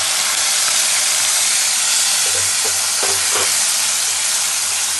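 Green chili and tomato hit a hot pan of oil while making chana dal at home, giving a steady close sizzle and hiss throughout, with a few soft stirring knocks partway.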